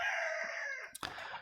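Free-range desi rooster crows loudly and close by in a drawn-out cock-a-doodle-doo, followed by a brief flurry of clucking and flapping from the flock.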